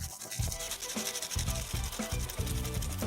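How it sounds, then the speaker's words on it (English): Garlic scraped against a fine grater in quick, rhythmic rasping strokes, close and steady throughout. "grate on a fine grater"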